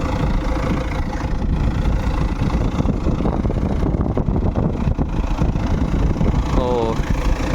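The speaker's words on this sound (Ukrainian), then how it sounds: "Заглибив культиватор і будемо пробувати" A tractor drags a heavy homemade cultivator, built as a harrow on a tall stand, through field soil, its mid-pitched engine droning loud and steady throughout.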